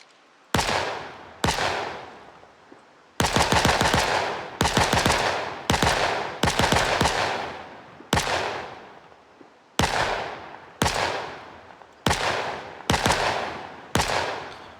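Firearms shooting in the zombie survival game Project Zomboid, a run of loud, sharp single shots with bursts of rapid fire in between, each crack ringing out briefly, with no talk.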